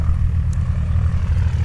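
Stearman biplane propeller engine running at an air show, a steady, loud, low rumbling drone close by without speech.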